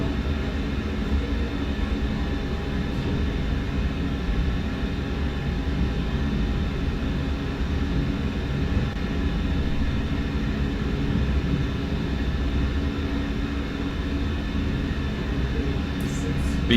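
A Ryanair Boeing 737-8200 taxis off the apron at Brussels South Charleroi, its engines holding a steady low drone heard from inside the flight deck, with people talking throughout.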